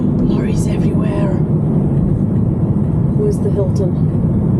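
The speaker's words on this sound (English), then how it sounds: "Lorries everywhere." Lorries rumble past on a busy road near a roundabout, a steady loud low traffic drone heard from inside a vehicle, with faint voices and brief higher noises drifting over it.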